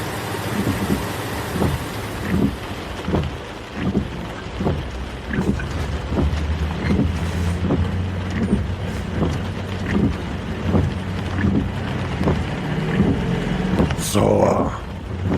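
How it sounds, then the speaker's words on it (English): Pouring rain drums steadily through a horror audio drama scene, joined by low rumbling like thunder or an idling vehicle and a rhythmic thumping beat, with a sharp burst near the end. "It's pouring down rain out there"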